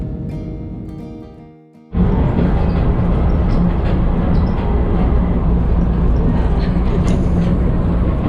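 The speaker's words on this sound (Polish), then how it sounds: "Takim wygodnym pociągiem można dostać się z lotniska" After a short quieter moment, the steady loud rumble of a moving passenger train from the Miami airport sets in and continues without a break.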